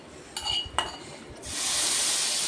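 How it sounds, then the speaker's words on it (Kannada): Tempering spices hitting a hot pan while making a kurma: two quick metallic clinks of a ladle against the pan, then a sudden loud hissing sizzle that holds steady. "ಒಗ್ಗರಣೆ ಹಾಕಾಯಿತು."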